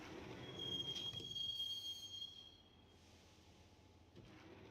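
Subway train in the Max Payne video game, its wheels letting out a thin, sustained squeal over a rumbling ride that eases off partway through, with no voices.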